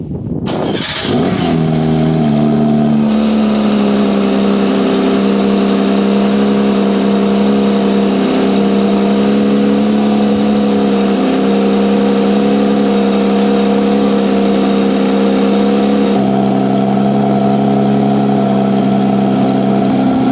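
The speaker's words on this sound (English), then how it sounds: "We'll get you guys a cold start on this thing too." A Porsche 992 GT3 cold start: the engine catches with a sharp bark and rev flare, then settles into a loud, steady high idle with a strong layered drone that holds for the rest of the clip, close to the car.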